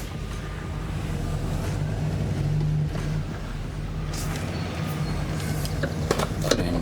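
A 2007 Chevy truck with a 4L80-E transmission idles and creeps back and forth in a driveway, giving a steady low engine rumble with a faint whine, plus a few light clicks and knocks near the end.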